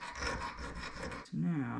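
A metal file rasping back and forth on small blacksmith-made miniature tongs, several quick rhythmic strokes close by, followed by a brief louder scrape.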